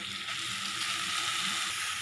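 Grated carrot hits a hot frying pan for a no-onion carrot poriyal, giving a steady, even sizzle that holds at a constant level throughout with no voices.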